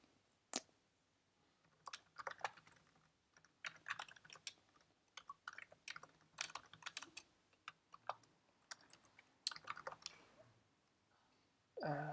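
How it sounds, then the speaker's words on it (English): Typing on a computer keyboard in bursts of quick, crisp key clicks with short pauses between runs, close and fairly quiet, with no speech. "let me first type this and then explain what I'm thinking."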